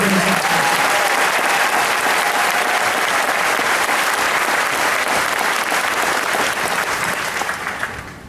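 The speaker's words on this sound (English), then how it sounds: "how about giving a round of applause to Maneuver Center of Excellence Band?" A large crowd applauds the band at an army graduation ceremony outdoors, dense sustained clapping that stays loud and fades slightly at the end.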